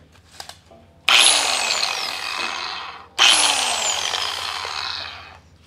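An angle grinder with a cutting disc bites into a steel barrel in two loud, sustained cuts, each starting abruptly with a bright screech and then grinding steadily before stopping, with a brief pause between them.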